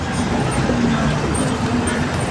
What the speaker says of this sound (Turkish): Ay araba sesi de çok geliyor değil mi?